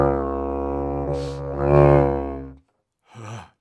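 A deep didgeridoo drone is blown too hard, swelling into a harsh, buzzy overblown surge, then a brief breathy note after a short silence.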